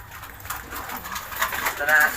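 German Beauty Homer pigeons coo softly in a loft, a low burbling murmur running under a man's close conversational speech.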